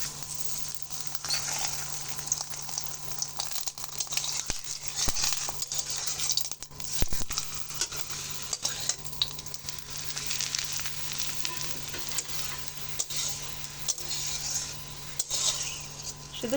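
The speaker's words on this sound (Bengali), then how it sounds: "এবার আমি পরোটাগুলো ভেজে নেব।" Parathas fry in hot oil in a wok, a busy sizzle with scattered scrapes and clinks of a utensil against the pan.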